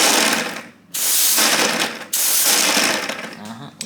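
3D-printed PLA gears driven by compressed air from a compressor at full blast whir and rattle loudly in fast bursts, with two brief pauses between runs.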